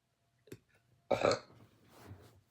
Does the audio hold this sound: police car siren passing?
no